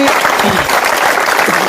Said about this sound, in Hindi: जोरदार तालियों के साथ इनका स्वागत अवश्य करिए